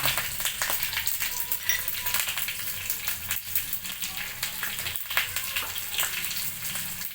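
Cumin seeds, chillies and curry leaves sizzle steadily in hot oil for a tempering, a dense crackling fry with occasional sharper pops, close and loud throughout with no talking.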